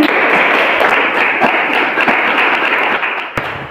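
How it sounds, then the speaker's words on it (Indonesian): Children in a classroom burst into applause, a dense, loud patter of many hands clapping together that carries on steadily for a few seconds. "Tepuk tangan dulu kepada anak-anak"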